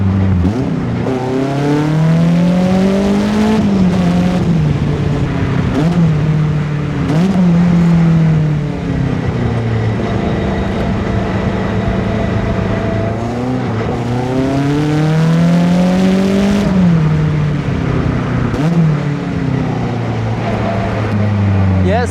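A sports car is driven hard along a stretch of open road, its engine loud and close, revving up and dropping back repeatedly through the gears, with a driver's voice heard now and then over it.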